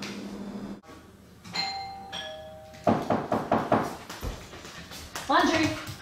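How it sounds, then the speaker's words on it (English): A doorbell chimes two tones, followed by a burst of rapid knocking or banging and a voice near the end. "the doorbell rings, door opens"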